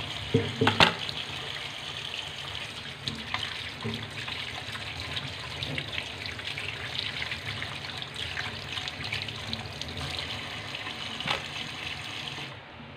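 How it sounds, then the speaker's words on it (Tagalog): Pork meat rinsed under a running kitchen tap, a steady splashing water stream with occasional bumps and knocks against the sink, moderately quiet and continuous. "Sa running water, mas magandang hugasan ng karne."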